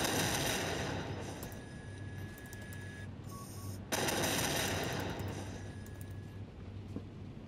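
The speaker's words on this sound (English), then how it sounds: "I can control the turrets on this ship" Airship turrets fire in Batman Arkham Knight with a dense, continuous rattle of rapid gunfire. Thin electronic tones run through it, and there is a brief drop before the barrage resumes at full loudness.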